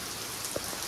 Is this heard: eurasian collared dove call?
no